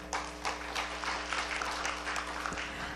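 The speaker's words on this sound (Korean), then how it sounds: "여러분 박수 한번 부탁드립니다" Audience at a policy debate on low birth rates applauding, a short burst of scattered clapping from a modest crowd over a steady low hum, fairly quiet and distant.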